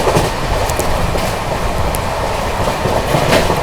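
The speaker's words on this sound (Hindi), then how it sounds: "क्या भाग रही है महाराष्ट्र संपर्क क्रांति एक्सप्रेस" Maharashtra Sampark Kranti Express, the 12907 Mumbai–Delhi train, speeding past after an overtake: a loud, steady rumble of rolling wagons with rhythmic clickety-clack from the wheels on the rails, close by and without any voices.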